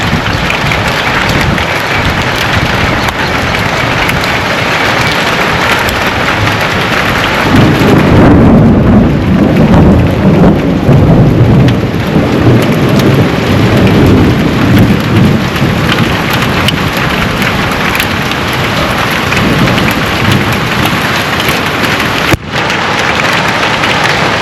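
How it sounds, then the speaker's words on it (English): A heavy thunderstorm in Shillong, with loud, dense rain drumming steadily on surfaces and a deep thunder rumble swelling in the middle, all close and continuous without speech. "It's been raining crazy over here."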